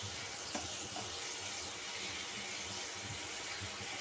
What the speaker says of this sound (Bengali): জল দিয়ে মশলাটাকে ভালো করে ভেজে নিচ্ছি